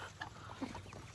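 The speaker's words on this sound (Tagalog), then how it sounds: "Ang gansa, yung pabo." Geese and turkeys on a farm, a couple of brief honking and gobbling calls, faint and somewhat distant over low background noise.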